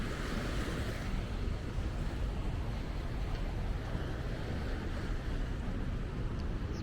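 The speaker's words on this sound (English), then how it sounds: "this is just the beach here" Surf washes steadily onto the beach at Bocagrande in Cartagena, a continuous broad roar of waves mixed with wind buffeting the microphone, with no one speaking.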